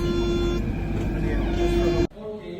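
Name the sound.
Athens metro car riding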